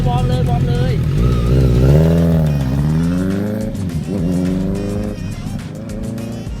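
On a gymkhana course at Wangnoi Speed Avenue, a car's engine revs and surges, rising and falling as it accelerates and turns. Tires squeal faintly, heard from inside or close by, with some talk.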